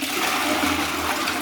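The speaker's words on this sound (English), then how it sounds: "Toilet's fine, flush is fine" A bathroom toilet flushes in a steady, close rush of water that fills the whole short moment with no voices.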